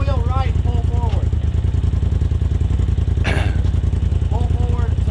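An off-road vehicle's engine rumbles steadily at low revs while pulling forward over rocks on a trail, with people talking over the loud, continuous drone.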